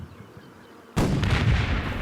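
Artillery shelling in the war game Combat Mission: after a second of quiet, a sudden loud blast erupts and rolls into a sustained heavy rumble and crackle of explosions, close and booming with no voices.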